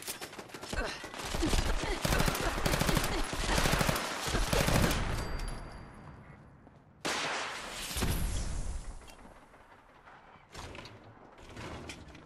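Rapid automatic gunfire in Fallout 4, long loud bursts of fast shots with a short pause and a sudden cutoff, then more bursts after a quieter stretch.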